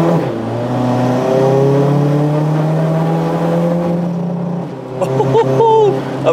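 A modified Skoda Octavia 2 with air suspension launches hard, its engine note climbing loud and close as it accelerates, then a few sharp pops near the end.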